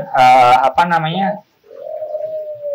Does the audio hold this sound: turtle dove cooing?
yes